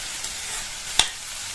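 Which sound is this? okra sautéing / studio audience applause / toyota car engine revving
okra sautéing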